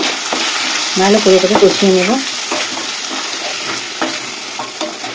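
Turmeric, chili and cumin powder sautéing in a pan, with a loud steady sizzle and scraping strokes of a utensil, plus a short burst of tonal squeaks partway through.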